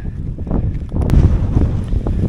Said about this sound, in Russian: Ветер какой поднялся.